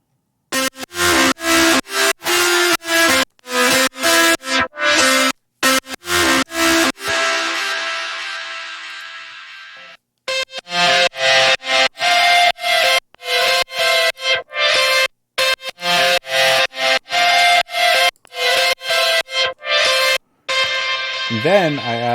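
Heavily processed guitar tones play in choppy, gated bursts that stutter on and off rhythmically, with a sustained ringing swell partway through.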